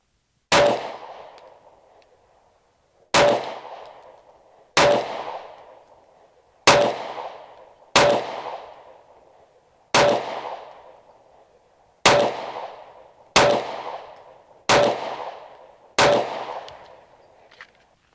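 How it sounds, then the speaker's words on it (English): Ten single shots from a Sig P365 pistol at a shooting range, each a sharp loud crack with a short ringing decay, fired at a steady, unhurried pace of roughly one to two seconds apart. "Let me shoot one more mag, and we'll see where that hits."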